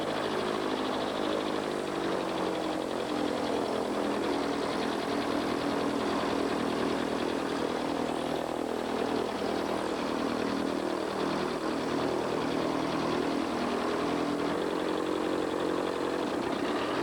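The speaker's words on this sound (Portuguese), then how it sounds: "Acompanhar a decolagem, o voo, vamos fazer um sobrevoo sobre a cidade." Light aircraft engine and propeller running steadily at the runway end of a small-town airport before takeoff, a continuous droning hum with a buzzing tone, close and fairly loud throughout with no talking.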